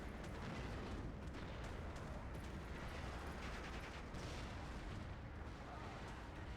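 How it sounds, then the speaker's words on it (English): A B-25 Mitchell bomber drops bombs in the WWII strategy game Steel Division, giving dense continuous rumbling blasts at a steady loud level with sharper crackling bursts mixed through them. "Mitchell, let's take a closer look at these dudes. He drops the bombs."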